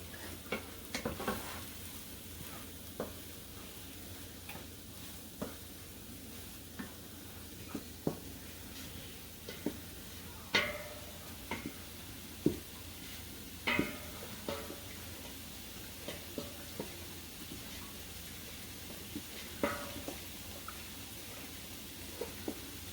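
Gumbo roux being stirred in a hot pot, with a steady low sizzle and irregular scraping knocks of the spoon against the pot, heard up close with no talk.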